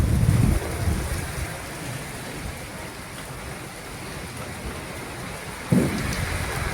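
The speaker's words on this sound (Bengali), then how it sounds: "ঝড় শুরু হয়ে গেছে।" Rain falls in a steady roar during an early-morning storm, with low thunder-like thumps at the start and again near the end.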